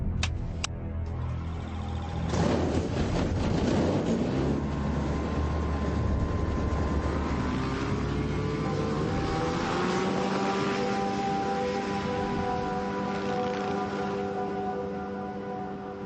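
Propeller aircraft flying over the African bush, a steady droning engine hum with a rising whine and held tones, heard from inside and continuous throughout without speech.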